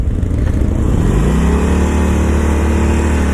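2019 Harley-Davidson Iron 1200 motorcycle pulling hard as the clutch is let out, a loud, close engine roar that rises in pitch and settles into a steady deep drone.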